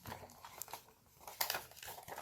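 Paper crinkles and creases as a pop-up card is pressed and folded by hand, giving soft close rustles and small crisp snaps, with a louder crackle partway through and no talking.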